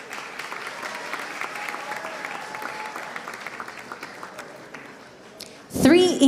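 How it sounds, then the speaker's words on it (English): An audience at a pizza awards ceremony in Milan gives a steady round of applause that carries on for several seconds, then fades as a loud voice takes over at the end. "Here she is. An applause for Neve"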